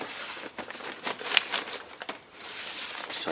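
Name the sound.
crinkling of a vinyl record sleeve being handled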